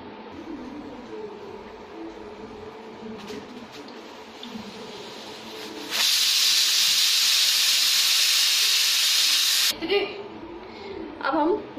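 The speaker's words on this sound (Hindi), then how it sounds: "इसे हम ढक्कन से पैक कर लेंगे, और 3 सीटी आने तक इसे" A pressure cooker of vegetable masala khichdi on a gas stove lets out a loud, sustained whistle of escaping steam for about four seconds. Quieter kitchen noise and talk come before and after it.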